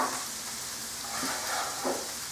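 Steamed, pre-cooked broccoli goes into a pan of mushrooms cooking in butter, giving a steady close sizzle with a couple of soft stirring rustles, alone and without talk.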